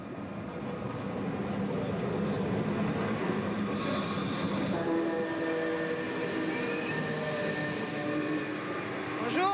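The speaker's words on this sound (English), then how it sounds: "This is my train, but it's not the same locomotive, it's the new one." A train locomotive in Morocco rumbles steadily throughout, a dense low mechanical roar with faint squeals and tonal whines rising near the end.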